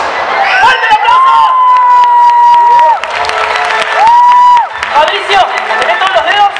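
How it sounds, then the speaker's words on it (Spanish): A circus crowd cheers and whoops loudly, with scattered clapping and excited shouts from many voices. "¡Fuerte el aplauso!"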